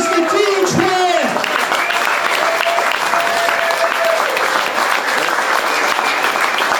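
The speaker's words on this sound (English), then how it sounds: "let's put out another round of applause together for Mr. Dean Tran" Loud, dense applause fills a political event as a candidate is honored, with whoops and cheering voices rising over the clapping early on before settling into sustained, even applause.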